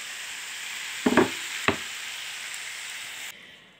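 Greens with jusai onion sizzling in a pan after a splash of water is added, a steady hiss of frying with a couple of sharp knocks as the lid goes on, then the sizzle becomes muffled.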